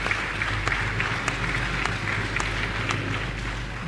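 A town hall audience in Makeni claps for the people of the town, a brief, moderately loud spell of crowd applause with scattered distinct hand claps over a low hum.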